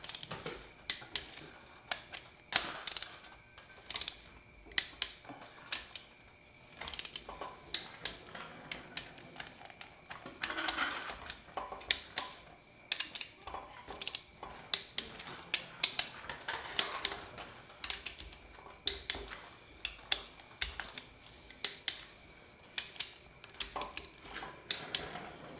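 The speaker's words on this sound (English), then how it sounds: "now I'm going to just torque them down to 45 foot-pounds to start" A ratchet tightens the cylinder head bolts of a Saturn engine during a rebuild, giving sharp intermittent clicking strokes in irregular bursts over a quiet background, close up with no talking.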